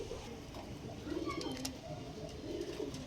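Pigeons coo softly in a loft, with low burbling calls repeating in a loose rhythm against faint background noise and a few brief clicks.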